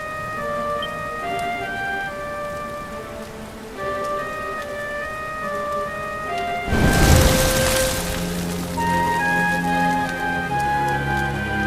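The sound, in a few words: rain falling in Dragon Quest XI video game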